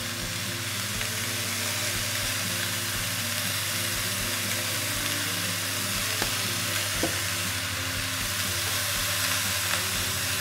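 A courgette terrine mixture sizzles steadily in a hot pan as it is stirred, with a few soft utensil scrapes near the end and no talking.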